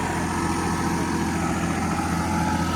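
A New Holland 5620 CRDI tractor's diesel engine runs steadily in Eco Plus mode, a continuous low rumble with an even tone that stays loud and close throughout, with no voices.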